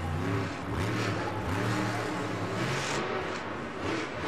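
A monster truck engine at a Monster Jam event in Atlanta revs up and down in repeated surges, loud and close, with rising and falling pitch and no speech.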